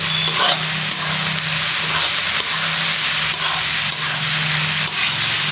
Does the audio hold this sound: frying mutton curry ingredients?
yes